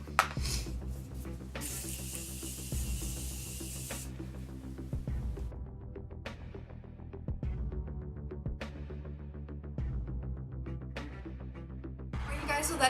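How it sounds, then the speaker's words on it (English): Morphe Continuous Setting Mist hisses from its bottle in one long continuous spray burst, close and fairly soft, followed by quieter handling and a second short spray at the end. "Final step to this look is setting spray, and I'm just going to be using the Morphe Continuous Setting Mist."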